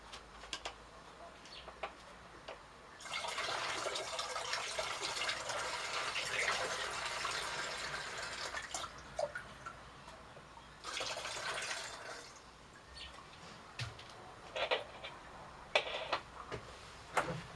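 An aqueous solution of dissolved acid and pyrosulfite is poured into a 2-litre bottle in two quiet, steady streams, the second shorter, with faint drips and clinks between them.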